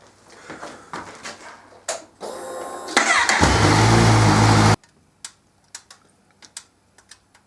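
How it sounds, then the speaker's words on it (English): A Z1000SX motorcycle engine cranks and catches, roaring loudly for a couple of seconds before cutting off, followed by scattered clicks and ticks, run to warm the oil before an oil change. "I'm going to run the engine for 10 minutes to warm the oil up"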